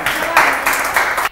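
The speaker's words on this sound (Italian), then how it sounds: "applauso" Studio audience applause during a live Italian TV music show, a short loud burst of clapping that swells in waves and cuts off abruptly.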